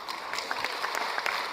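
Audience applause from a Steve Harvey show clip, a brief dense patter of clapping at moderate level.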